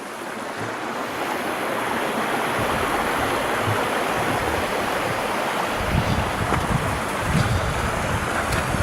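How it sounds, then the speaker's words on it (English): Waterfall by Salmon Bridge, a loud continuous broadband rush of falling water, with wind buffeting the microphone. "Nice waterfalls."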